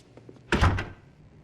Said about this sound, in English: Then Bernie, open the door.